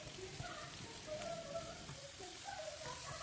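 Salted fish with chilies and tomato fries steadily in a pan, a soft continuous sizzle with faint crackle and a few light stirring clicks, all fairly quiet and even throughout.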